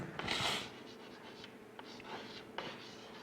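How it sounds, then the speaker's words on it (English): A pen scratches across paper close by, writing in short quiet strokes and bursts with small pauses between them. "we'll just write an example verb"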